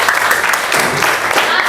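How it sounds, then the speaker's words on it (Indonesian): Classroom applause for a student named Rehan, a short burst of many hands clapping together, steady and fairly loud throughout. "Boleh tepuk tangan untuk Rehan."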